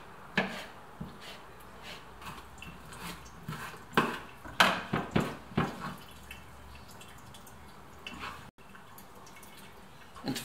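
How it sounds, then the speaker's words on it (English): A knife slicing wood-roasted red peppers very thin on a board, a run of quick crisp cuts with light knocks and clicks, moderately close and alone without talk, easing into quieter handling near the end. "I like to slice these really thin"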